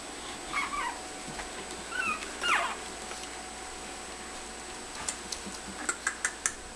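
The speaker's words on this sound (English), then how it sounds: "Here are Abby and her puppies" Young puppies with their mother dog give a few brief, faint, high whimpers and squeaks, followed by a run of light ticking taps nearby.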